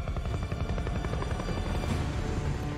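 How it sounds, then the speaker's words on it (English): An attack helicopter in an action film scene from The Matrix Resurrections, its rotor thumping loud and rapid with a heavy rumbling throb throughout. "Face to face with an attack helicopter?"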